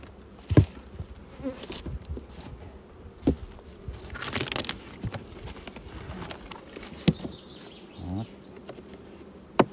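Dense, continuous buzzing of many honeybees around a hive, close up, with occasional soft knocks and bumps as frames are inspected.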